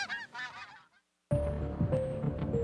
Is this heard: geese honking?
yes